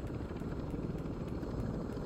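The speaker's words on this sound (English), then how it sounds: "Oh crap, the helicopter's gonna leave without me." A helicopter in Call of Duty: Modern Warfare Zombies gives off a steady, loud, low rotor rumble with a constant beating drone throughout, and no voices.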